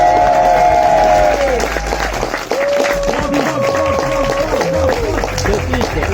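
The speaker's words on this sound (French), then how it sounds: "Moi, je veux bien qu'on applaudisse" An audience applauds and cheers at the Hadra Festival, an outdoor music event. The clapping is steady, with whoops and whistles over a crowd murmur. Voices talk and call out in the crowd throughout.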